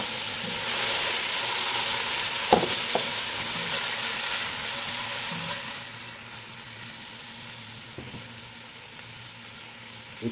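Tomatoes sautéing in a pan while a Filipino mung bean (munggo) dish is cooked, giving a steady close sizzle that fades somewhat after six seconds, broken by a few sharp clicks from stirring.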